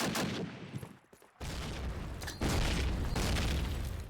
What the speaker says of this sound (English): Meteor with a nicely baked nade into Sly